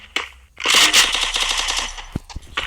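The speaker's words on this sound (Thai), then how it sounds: "ยิงไม่หยุดเลย" An MP40 submachine gun fires a long continuous burst in a video game, loud and close with rapid rattling shots, followed by a few separate single shots; no talking.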